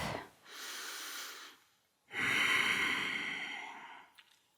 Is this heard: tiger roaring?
no